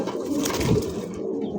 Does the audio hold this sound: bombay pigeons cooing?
yes